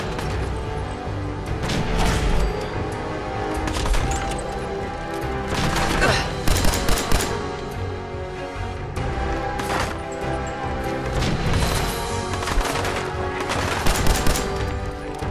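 Gunfire in Fallout 4 crackles in repeated bursts, sharp loud volleys separated by short pauses, with a voice talking over parts of it.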